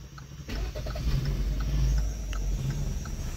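Manual car being started with the key while the clutch is held, a starter crank followed by the engine catching into a steady low idle rumble that swells then settles.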